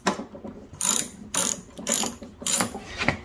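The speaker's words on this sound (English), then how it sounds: "Now that we have the tank off the mower, now we can remove this bolt here." A hand ratchet turns a bolt on a lawnmower with its fuel tank removed, giving bursts of rapid close clicking in an uneven back-and-forth rhythm, with no voices.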